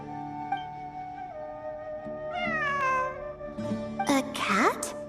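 A cat meows in the Genshin Impact video game, with two rising, whining meows in the second half over a sustained background music drone.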